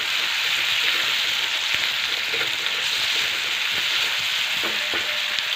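Tomatoes with salt cook in hot oil in a pan over medium gas, giving a steady, close, moderately loud sizzle with faint stirring clicks throughout and no talking.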